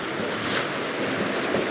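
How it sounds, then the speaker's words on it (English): Ocean waves roll in over rocky coastal defences, a steady broadband wash of surf with wind noise buffeting the microphone throughout, no voices. "They're rolling in and they reveal the defences, and then the next wave comes in and covers them"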